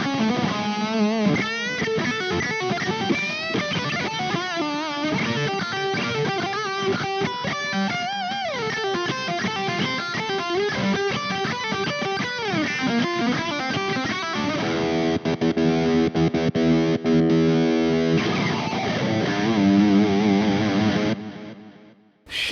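Electric guitar played through a Positive Grid Spark 2 combo amp with a distorted, effects-laden tone, a continuous riff-filled passage with sustained chords near the end before cutting off.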